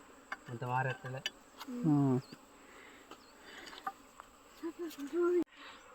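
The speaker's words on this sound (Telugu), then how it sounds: "అవి చూడండి ఫ్రెండ్స్ ఈగలు ఎలా ఉన్నాయో" Honey bees buzzing around a field after a honey harvest, a faint steady hum with a few nearer passes, mostly under someone talking.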